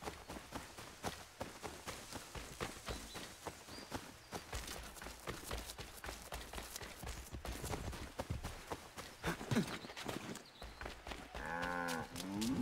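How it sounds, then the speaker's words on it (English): A cow moos in the video game Assassin's Creed III, a drawn-out low call rising near the end over a dense, busy bed of in-game sound and footsteps. "Cow? Hi, cow."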